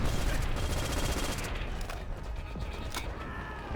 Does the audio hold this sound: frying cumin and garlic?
no